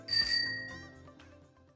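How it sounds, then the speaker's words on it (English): A single bright bell ring, a crisp metallic strike with a shimmering ring that decays over about a second and a half. "ring the bell."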